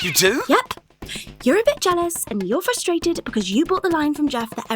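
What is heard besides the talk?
No distinct noise like a dog, phone or traffic.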